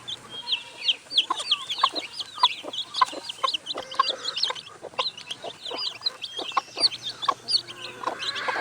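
A mother hen clucks steadily among her chicks, whose high peeps chirp densely throughout at close range and are joined by occasional soft fowl calls.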